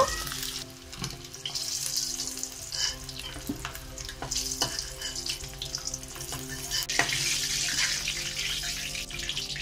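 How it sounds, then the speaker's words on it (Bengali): Eggs brown slowly in hot oil for an egg biryani, giving a continuous close sizzle with soft crackles and a few sharp spits, steady from start to finish without any talking. "ডিমগুলো আস্তে আস্তে লাল লাল করে ভেজে নেব।"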